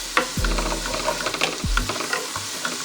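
Spoon scraping and stirring through a thick southwestern eggroll filling mixture in a bowl, with clinks and a couple of low thuds, close by and without talk.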